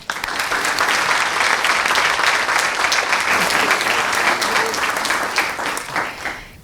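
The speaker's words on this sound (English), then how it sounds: "Let's give them all a big round of applause" An audience gives sustained, full applause for eight graduates at an apprenticeship signing and graduation ceremony, a thick continuous roar of clapping that tapers slightly toward the end.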